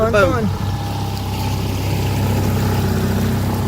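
A small boat engine drones steadily and close by throughout, a low continuous rumble with a brief higher sweep at the very start.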